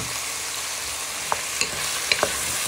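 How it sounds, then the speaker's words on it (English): Onion, garlic and chilli stirred into meat in a frying pan: a soft continuous sizzle with a few distinct scraping clicks of the utensil against the pan. "So you're now going to get all your onion, garlic and chilli. And you want to give that a good stir in."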